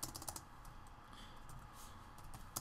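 Light keystrokes tap out a command on a computer keyboard in a quiet room, a short burst of soft clicks near the start and a couple more at the end, faint and close with no talking.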